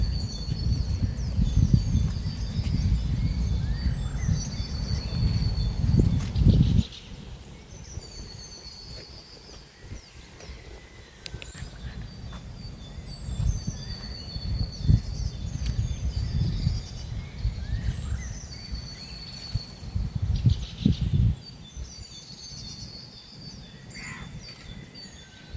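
Birds call in the early morning at Guhagar beach on the Konkan coast, scattered chirps and a few caws carrying over low wind and surf rumble, louder at the start and again mid-clip.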